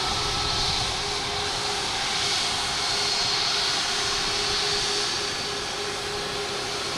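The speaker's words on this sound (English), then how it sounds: "We have Alaskan Airlines pulling in front of us," An Alaska Airlines jet taxis in at Boston Logan Airport, its engines giving a loud, continuous roar and whine that holds steady throughout.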